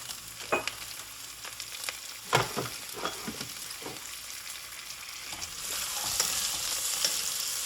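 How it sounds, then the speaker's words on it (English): Chopped onions sauté in a hot pan for a vegetable soup with mushrooms and butternut squash, with a sizzle that builds in loudness and sharp clacks of a spoon stirring against the pan. "we're going to saute those for a little bit, just a tad."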